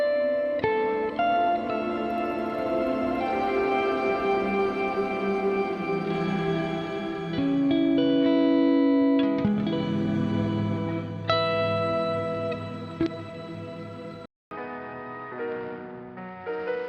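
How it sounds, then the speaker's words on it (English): A free shimmer reverb plugin by Saike in REAPER turns sustained, bright tonal notes into a wide, washing tail that swells and overlaps. The sound cuts out briefly near the end. "you can use it to blend the original signal with the reverb sound"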